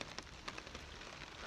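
Steady rain hisses down during an outdoor walk in a heavy downpour, a dense, even wash of noise with faint patters throughout.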